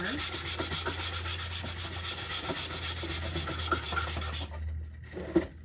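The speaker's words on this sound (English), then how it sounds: "I'm gonna go ahead and lightly sand this over." A hand-painted craft piece being lightly sanded, a continuous soft, gritty rubbing that holds steady for several seconds before stopping, followed by a brief scrape and a small knock, close and moderately quiet.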